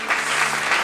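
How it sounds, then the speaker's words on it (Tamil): A short burst of audience clapping in a church during a sermon, steady and fairly loud throughout, with many hands blending into an even roar. "கைத்தட்டுங்க"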